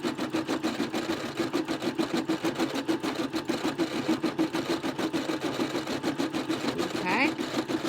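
A Brother PE535 embroidery machine stitches a quilting design with a steady, rapid mechanical hum and needle chatter, close and continuous throughout.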